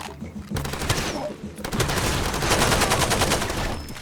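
Enemy gunfire in the Far Cry 2 video game, with bursts of rapid automatic shots rattling close and loud and a brief pause partway through before a heavier, continuous barrage.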